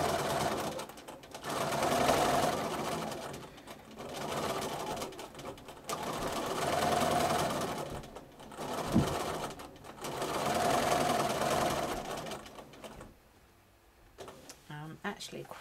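A sewing machine free motion quilting spirals near the edge of a quilt, running in steady bursts of rapid stitching separated by brief pauses, close and fairly loud, with a faint thump and a quiet stop at the end.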